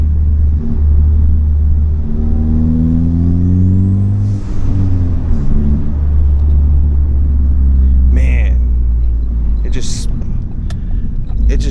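Ford Focus MK3 with a swapped engine and Sidewinder kit driving, a loud steady engine drone with rising and falling revs under heavy road rumble, heard from inside the car.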